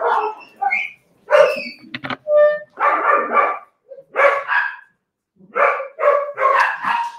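Several dogs bark at a small dog that has escaped, with sharp yips and barks coming in clustered bursts separated by short silences, fairly loud and nearby.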